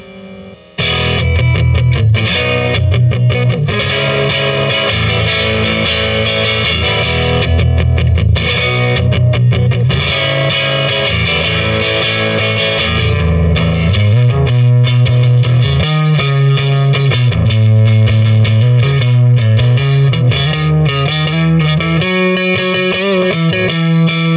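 A Fender Mustang electric guitar on its neck pickup plays loud, sustained chords and riffs with a distorted, effects-laden tone, filling the passage with no talk.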